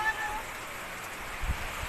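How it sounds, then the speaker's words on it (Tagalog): Heavy rain pours down during a flood, making a steady, dense hiss that runs through the whole moment, with faint murmuring voices beneath it. "Tuloy-tuloy pang ulan."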